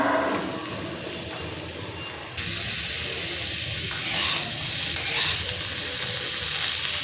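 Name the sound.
pumpkin pieces added to hot oil, frying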